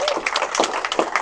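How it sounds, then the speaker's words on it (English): A short burst of clapping from a small group at a borough meet-and-greet gathering, thanking council members, with a few distinct hand claps and some talking mixed in. "So let's give them a big round of applause."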